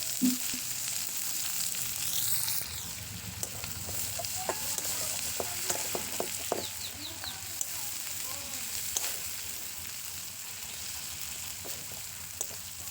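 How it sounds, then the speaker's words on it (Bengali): Chopped onions frying in hot oil in a pan, a steady loud sizzle and crackle running throughout with occasional stirring clatter, close by; faint voices may sit underneath. "পেঁয়াজটাকেও হালকা লাল করে ভেজে নেবো"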